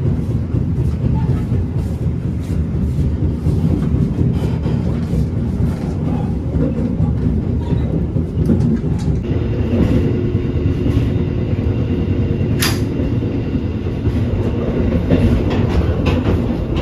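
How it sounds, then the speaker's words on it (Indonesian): The Gajah Wong passenger train in Indonesia rolls past close by, a steady heavy rumble with rhythmic clickety-clack of wheels over rail joints, a brief squeal near the end. "Dia kereta Gajah Wong."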